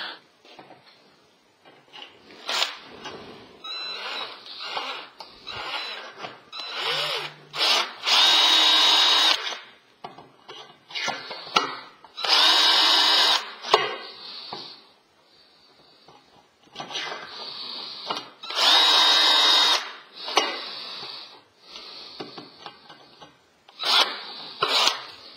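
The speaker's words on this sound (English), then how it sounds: "all I really need to do with my drill is chip the paint on the underside of" A power drill whines in repeated loud bursts of several seconds each, grinding and rasping as it chips paint off a steel support, with short pauses between runs.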